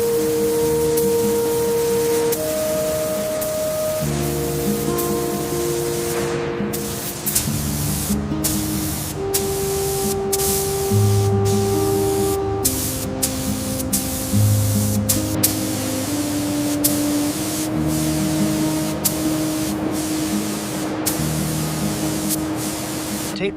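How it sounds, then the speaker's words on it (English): A spray nozzle sends a steady, continuous hiss onto the knee joint of a Gundam RX-78-2 model, with brief pauses in the flow. Sustained musical tones play underneath throughout. "Spray steady on the knee joint."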